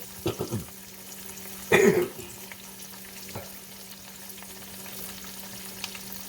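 Zucchini frying in a pan, a steady soft sizzle running throughout with a few brief louder clatters of stirring near the start, heard close and alone without talk.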